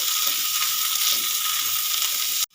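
Peas and chopped coriander hit a frying pan and are stirred, giving a loud, continuous close-up sizzle that cuts off abruptly at the end.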